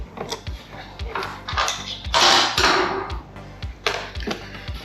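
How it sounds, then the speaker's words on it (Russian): Self-tapping screw being unscrewed on a Vespa GTS 250 scooter, a series of close metallic clicks and taps from the tool with a brief scraping burst in the middle, no talk. "теперь надо выкрутить вот этот саморез"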